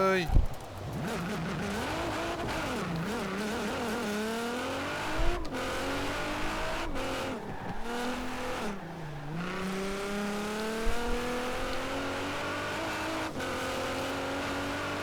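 A Nissan GT-R R35 in Forza Horizon 4 roars through repeated rising revs and gear shifts, loud and close, with tire squeal, brief skids and a speaking voice over the engine.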